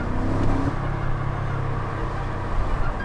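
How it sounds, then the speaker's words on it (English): BMW M5 F90 driving with its exhaust rumbling steadily, a deep, close engine drone with a slight rise early on and no talk over it. "the exhaust sounds really good"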